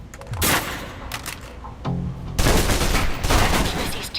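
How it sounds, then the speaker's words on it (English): Bursts of blind gunfire from behind cover in the video game Alpha Protocol, loud and close, with clustered shots and a longer sustained volley near the end, no talking. "Still using cover, take some shots at the target."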